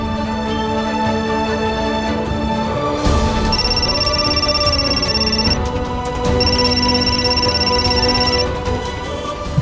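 A telephone rings in an indoor drama scene, its electronic tone pulsing in two long bursts over a sustained musical background score.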